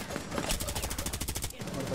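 Rapid automatic gunfire from Rainbow Six Siege gameplay, a dense stream of shots rattling steadily for about two seconds at close range, with voices talking over it.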